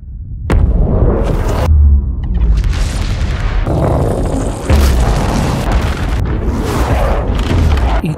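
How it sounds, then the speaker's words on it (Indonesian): A thermal bomb detonates in an action film with a deep booming blast, followed by sustained roaring rumble and debris, loud and close, with a second surge of explosive noise midway. "Bom termal anjing gila meledak."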